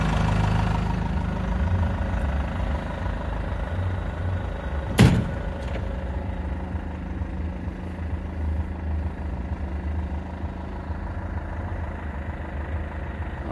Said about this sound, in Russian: Звук BMW.